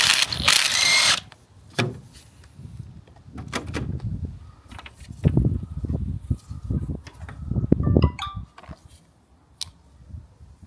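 A power tool zaps off the 18mm strut top nut on a Vauxhall Corsa during a strut replacement, in loud bursts of whirring and rattling with brief pauses and clanks between them, close by, after a short spray hiss at the start.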